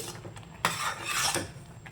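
A spoon stirs sweet jaggery rice (bellam annam) with cardamom in a metal pot, giving a few scraping clinks against the pot's side. A sharp knock comes first, then a longer scrape.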